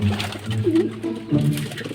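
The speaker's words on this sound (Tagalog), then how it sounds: "Ayan, yung mga kalapati natin dito." Soft, low pigeon coos repeat in a gentle rolling rhythm, close by and fairly loud, with no talking.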